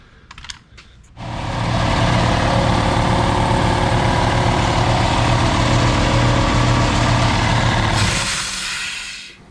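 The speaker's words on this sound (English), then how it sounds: "loud and annoying Harbor Freight edition grinder" A cheap Harbor Freight grinder working on a late model racing tire, loud and harsh: after a few light taps it spins up into a sustained buzzing whine lasting about seven seconds, then winds down, with no voices.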